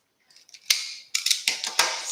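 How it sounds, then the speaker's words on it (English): Zip tie pulled tight on a deco mesh wreath: a rapid series of sharp ratcheting clicks and zips in short bursts, close and crisp, with no talking. "Put our zip tie in there at our spot"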